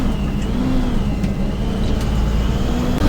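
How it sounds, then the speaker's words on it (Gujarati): A car drives along a narrow forest road through the mountains of Pahalgam, its engine giving a close, steady whirring hum with no voices. "એક જ ગાડી પસાર થઈ તેવી."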